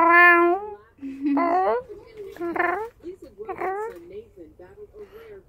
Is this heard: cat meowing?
yes